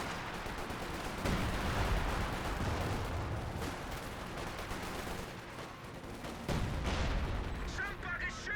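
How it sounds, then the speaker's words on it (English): Rapid crackling gunfire and artillery bursts fill a Company of Heroes 2 battle, dense volleys of shots and booms layered over continuous battlefield noise, with heavier bursts recurring every few seconds. "Somebody's shooting at us."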